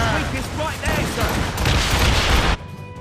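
Ship cannons boom in a naval battle in Assassin's Creed Rogue, a loud dense volley of overlapping blasts over game voices and shouting, then cutting off abruptly near the end.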